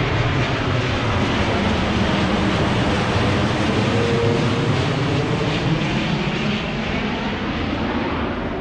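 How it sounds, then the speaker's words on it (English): Airplanes passing overhead on the landing path near an airport, heard from a small park as a loud, steady broadband roar that stays constant throughout. "Airplanes going overhead there."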